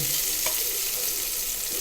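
Half an onion tempering in hot oil for a chicken curry served with rice dumplings, a close, steady crackling sizzle with a brief stir partway through.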